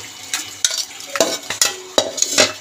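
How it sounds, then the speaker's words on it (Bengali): A spatula stirs cabbage with fried fish heads in a pan, making repeated close scraping strokes at a steady rhythm over a soft sizzle, with no voices. "খুন্তি দিয়ে একটু নাড়িয়ে দেবো"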